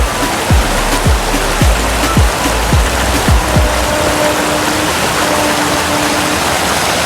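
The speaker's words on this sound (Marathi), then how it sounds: "पूर्ण गरम पाण्याचा फ्लो झालेला" Hot spring water pours into a tank as a loud, steady rushing gush heard up close, with a few brief tonal sweeps near the start.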